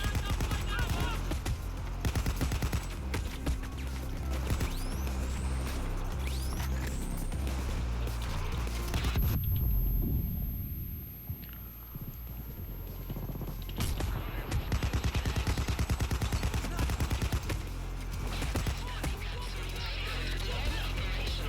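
Rapid SMG gunfire in the video game Payday 2, dense bursts of shots with a quieter lull in the middle, mixed with game effects and a voice talking over it.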